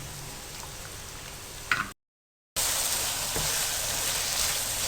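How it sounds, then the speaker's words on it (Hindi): Potato pieces frying in oil, chip-style, for an aloo karela fry: a steady close sizzle and crackle breaks off into brief silence, then returns louder and fuller. "आलू को भी जिस तरह से हम चिप्स के लिए आलू को फ्राई करते हैं, इस तरह से आपने आलू को फ्राई कर लेना है"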